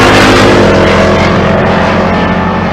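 Two drag cars, Bob Myers and Curtis Myers, one a naturally aspirated big block, roar side by side down the quarter-mile strip at a Pueblo, Colorado race week, a loud continuous high-revving engine blare with no talk.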